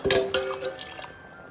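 Water is poured from a tumbler onto ponni rice and chicken in a pot for chicken biryani. Two brief splashing pours come up close, then taper into soft trickling and quiet.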